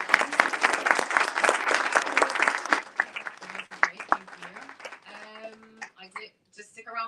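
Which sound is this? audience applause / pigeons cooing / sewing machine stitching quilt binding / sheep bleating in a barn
audience applause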